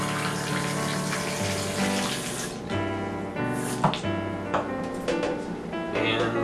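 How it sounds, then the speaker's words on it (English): Tap water runs steadily into a cooking pot in a home kitchen, a constant close splashing stream with a few knocks of the pot under the flow. "Go ahead and fill your pot up with water."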